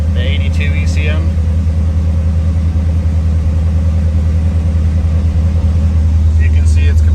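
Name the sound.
1982 Corvette C3 engine idling after ECM swap to '84 ECM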